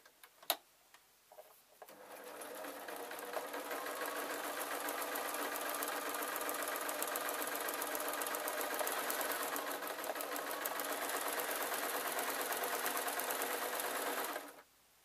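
A sewing machine runs a line of stitching along a ragdoll's folded fabric legs. After a couple of faint knocks it whirs in one continuous, rapid ticking run for about twelve seconds, then stops abruptly.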